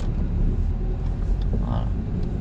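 A car pulls away during a driving lesson, with a steady low engine rumble and road noise throughout, close and fairly loud, and no clear rise in revs.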